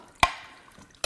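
Coolant from a Honda Accord J35 V6 water pump during an engine teardown, heard as two distinct drips in about a second, one early and one at the end, close and clear against a quiet background.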